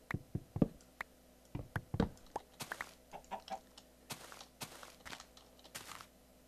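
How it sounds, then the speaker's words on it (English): Minecraft chicken clucking: a series of short, sharp clicks and clucks spaced irregularly over several seconds, faint against a quiet low hum, with no talking. "Oh, I hear another chicken."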